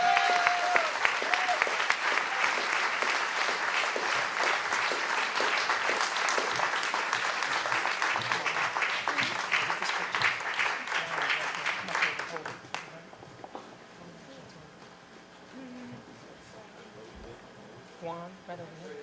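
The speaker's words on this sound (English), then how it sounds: "Come on, clap your hands" Audience at a fundraising gala applauding an award presentation, loud sustained clapping from a large crowd for about twelve seconds, then fading out as a few voices talk quietly in the room.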